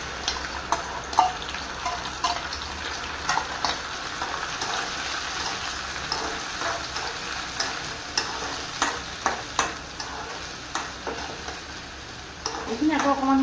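Ground spice paste sizzles and fries with onions in a pan for an egg dish, stirred steadily with frequent scraping clicks of a spoon over a constant crackling hiss.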